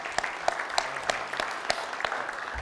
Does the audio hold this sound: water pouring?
no